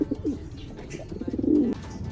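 Racing pigeons meeting in a pen for pairing give soft, low cooing calls in short bursts, close and quiet, with brief rustling between coos.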